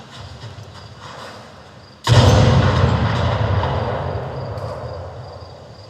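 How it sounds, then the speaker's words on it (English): Single gunshot firing in a canyon, a sudden loud boom followed by a long rolling echo that fades slowly over several seconds. "you can hear someone firing a gun and hearing the same sound reflected throughout"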